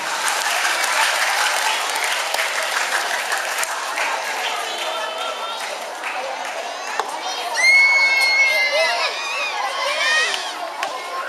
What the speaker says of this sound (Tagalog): Bigyan po natin sila ng masigawang palakpak.